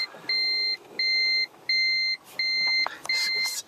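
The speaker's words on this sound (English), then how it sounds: "Apart from the beeping, which is not as quiet at all" Five evenly spaced electronic beeps from an electric car reversing, each about half a second long, repeating in a steady warning rhythm close by with faint background noise.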